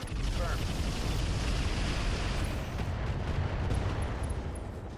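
Mech weapons in the RogueTech BattleTech game pound a Nova in a dense, continuous barrage, a loud roaring wall of gunfire and explosions that fills the whole stretch and eases slightly near the end.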